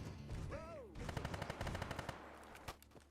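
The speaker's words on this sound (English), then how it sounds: "I hear gunshots, but that's not my problem." Rapid bursts of automatic gunfire in Fallout 3 / New Vegas, a loud rattling volley lasting a few seconds, with a brief rising whine just before it.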